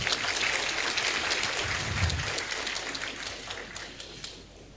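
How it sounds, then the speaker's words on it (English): Audience applause in a formal assembly honoring a Supreme Court Chief Justice, a sustained dense clatter of many hands at steady volume that slowly thins toward the end. "Please, a round of applause once again."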